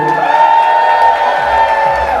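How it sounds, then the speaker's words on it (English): A wedding reception crowd cheers loudly and whoops with some applause, a dense, sustained roar of many voices under a steady tonal hum. "One more time, folks, a nice round of applause for the father of our groom, Mr. Arun Patel"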